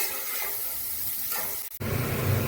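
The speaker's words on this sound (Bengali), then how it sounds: "আলুটা দিয়েও কিছুক্ষণ কষিয়ে নেব।" Potatoes, fried earlier, now frying and stirring in a spice paste for a festive-style chana dal, giving a steady close sizzle with a brief dropout, then a louder, fuller hiss once more food hits the pan.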